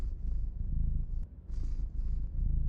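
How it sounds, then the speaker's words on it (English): A cat purrs in the video game City Garden Harvest, a low, rumbling, rhythmic purr close up and fairly quiet, pulsing in steady cycles with brief breathy gaps. "Listen to that purring."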